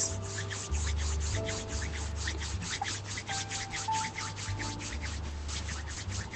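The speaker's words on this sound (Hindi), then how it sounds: "3 बार बोलते हुए रब योर पाम्स" Palms rub together briskly during a gratitude meditation, a quick regular swishing of dry skin, close and steady for several seconds, over a low hum with no talk.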